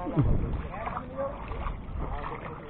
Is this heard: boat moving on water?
yes